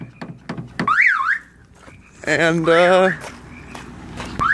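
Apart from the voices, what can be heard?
car alarm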